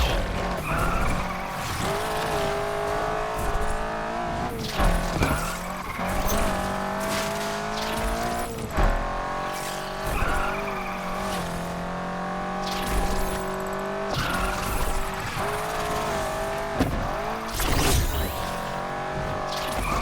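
Tires squeal as a car corners in the racing video game Need for Speed Unbound, with long screeching skids layered over a loud, steady engine roar and repeated throughout.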